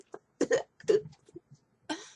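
Several short, dry coughs from one person come in separate bursts at close range, fairly quiet, with brief silences between them.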